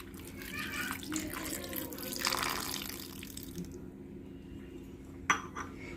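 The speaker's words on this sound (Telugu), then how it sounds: "ఇప్పుడు చిన్న గ్లాసుడు నిమ్మరసం వేసుకుందాము." Lemon juice poured from a small glass into spiced chicken pickle in a kitchen, a brief wet trickle and splash followed by a clink of a utensil, with faint room noise.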